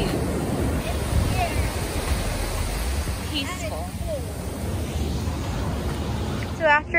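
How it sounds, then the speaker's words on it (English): Ocean waves wash onto a Malibu beach in a continuous, fairly loud rush of surf with wind on the microphone, while people's voices are heard faintly over the water. "look at the waves"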